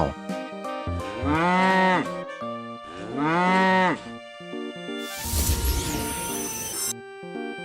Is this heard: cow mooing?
yes